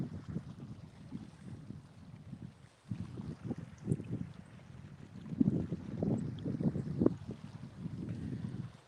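Cold wind buffets the microphone on a fishing boat out on the water during catfish fishing in cold weather, producing low gusty rumbles that swell and drop in uneven waves, stronger toward the end.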